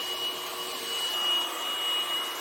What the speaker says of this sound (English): today I'll be reviewing the Hoover ONEPWR Blade Pet Cordless Vacuum